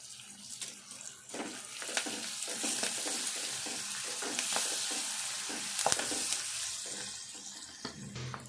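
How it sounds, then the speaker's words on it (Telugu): Onion, curry leaves and fenugreek leaves fry in a pan, giving a steady close sizzle broken by repeated scraping stirs and a few clinks, with no talking. "ఇప్పుడు ఇవన్నీ కూడా మంచిగా కొద్దిగా దూరగా వేగాలి"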